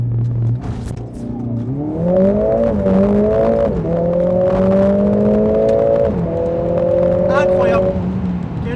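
A 421 hp Mercedes-AMG A45 S in race mode holds a loud rev against the brake, then launches and climbs through rising engine notes with quick gear shifts, close and dominant throughout.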